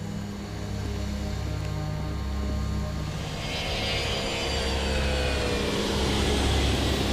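Flight C-18, an Air Force 3 aircraft departing Pyongyang, roars steadily through its climb just after gear-up, a broad engine rumble that swells slightly as a high whine rises over it.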